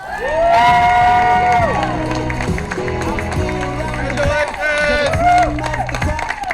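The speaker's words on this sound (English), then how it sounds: "Let's give them a big round of applause." Wedding guests cheer and applaud as newlyweds are introduced, with clapping and shouts under loud music playing throughout.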